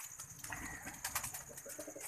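A male Kasuri pigeon coos softly and repeatedly, faint low coos with rustling and bird activity around it.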